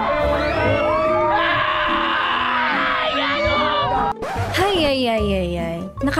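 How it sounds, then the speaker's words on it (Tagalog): Riders scream and yell on an extreme amusement park ride at Enchanted Kingdom, sustained shrieks from a crowd mixed with nearby talking and whoops. "natakot ako sa sigaw niya"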